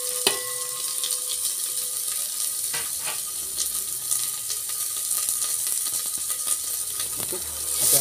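Onions and a bay leaf sizzle and crackle steadily in hot oil for a homemade chicken curry, a close, continuous frying hiss with occasional stirring clicks.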